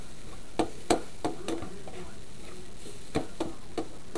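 Vegetables for chili sauté in a pan, a faint low sizzle broken by scattered sharp taps and clicks of a utensil against the pan.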